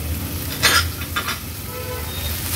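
Basmati rice, peas and carrots sautéed in ghee in a pan over medium flame, a soft sizzle with a few stirring scrapes and clinks near the start.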